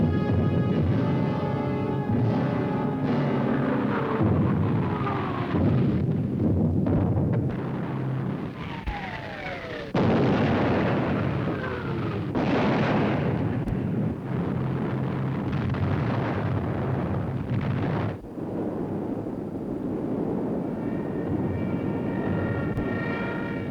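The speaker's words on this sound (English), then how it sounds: "Bombs" Bombs exploding in a wartime air raid during the Battle of Britain: a dense, continuous roar of blasts and aircraft noise, with descending whistles of falling bombs, loud throughout.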